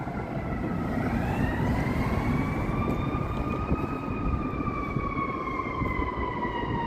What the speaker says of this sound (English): But hey, we got sirens.